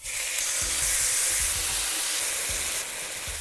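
Steady, dense sizzling of marinated meat frying in about 2 teaspoons of oil in a hot pan, with a few soft clinks of utensils stirring, close and continuous.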